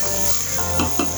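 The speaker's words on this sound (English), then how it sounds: "So we saute with the onions." Garlic and onions sautéing in a pan, a steady close sizzle with a few light clinks of a utensil against the pan.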